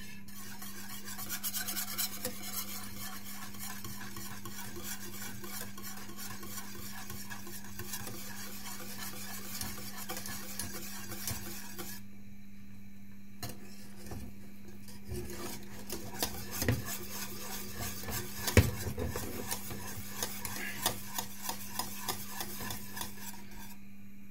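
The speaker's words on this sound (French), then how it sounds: "je mélange le tout jusqu'à que la sauce épaissit" Continuous scraping and rubbing as a spoon stirs mac and cheese sauce with mustard while it thickens, with a faint sizzle beneath and a low steady hum; the rasping strokes stay quiet and close throughout.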